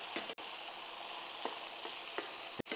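A steak sears in a pan with butter, rosemary and garlic, giving a loud, continuous close sizzle broken by a couple of brief dropouts and soft stirring touches.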